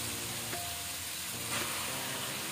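Half a kilo of cubed chicken hits a hot pan with chopped onion, setting off a steady, close sizzle and hiss of frying that continues evenly throughout.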